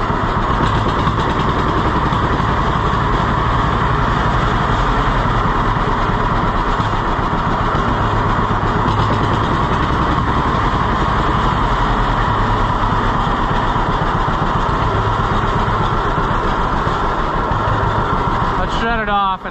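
A John Deere B tractor engine, freshly fitted with a new carburetor, runs steadily nearby with a loud continuous chugging throb that holds for the whole stretch before cutting out at the very end.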